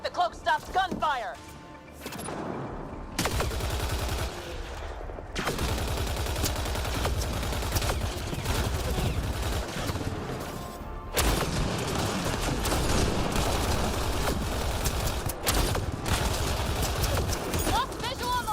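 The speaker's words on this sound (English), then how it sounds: "Let's see if the cloak stops gunfire!" Rapid gunfire from a sci-fi shooter battle in Mass Effect: Andromeda, bursts rattling steadily through most of the stretch with brief gaps, loud and close, with characters shouting over the combat.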